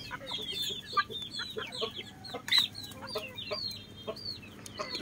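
Joloano native chickens cluck and peck while feasting on ripe papaya in a backyard, a busy overlapping chorus of soft clucks and short calls, close by, with a brief louder squawk midway.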